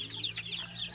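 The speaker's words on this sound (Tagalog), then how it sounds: "Hawak mo sisiw." A young chick held in someone's hands gives a rapid string of high, thin peeps, close and fairly soft over a faint background hum.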